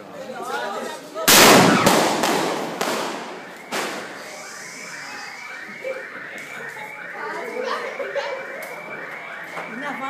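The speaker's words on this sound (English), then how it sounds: "Hey, there's a fireworks show." Christmas fireworks in Sri Lanka burst close by, with a loud broadband blast followed by a string of crackling pops and sharper reports trailing off, while people talk excitedly throughout.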